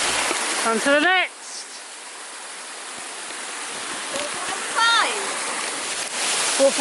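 Steady rushing water from a waterfall fills the scene at moderate level, with brief voices and whistle-like calls breaking in near the start and middle.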